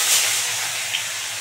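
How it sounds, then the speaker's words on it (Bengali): Bata fish frying in hot white oil in a home kitchen produce a steady, fairly loud sizzling hiss throughout, with a small pop near the end. "তেল গরম হয়ে গেছে, এবার মাছগুলো দিয়ে দেবো।"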